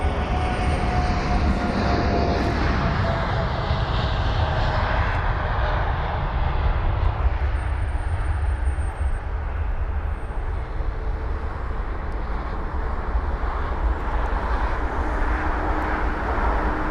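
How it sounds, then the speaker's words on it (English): American Airlines Boeing 787-9 Dreamliner departing London Heathrow, a steady, loud jet engine roar that holds throughout with a faint whine on top, heard from a distance with no talking. "Now we've got a departure, and it's the American Airlines 7879 Dreamliner with flight number AA91."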